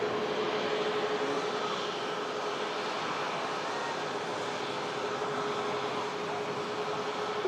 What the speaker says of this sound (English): Hopefully heavy departure from the 330.